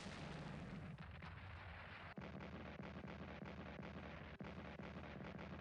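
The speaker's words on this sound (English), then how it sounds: "Yeah, our defensive artillery." Defensive artillery fire in a World War II Pacific strategy game during the Battle of Okinawa, heard as a dense, steady roar of gunfire with sharp, distinct booms cutting through it at irregular intervals.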